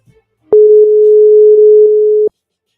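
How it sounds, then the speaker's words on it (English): A single steady electronic telephone ringing tone sounds for under two seconds, clean and loud, starting and stopping abruptly with soft clicks. "You're going to hear a little ringing"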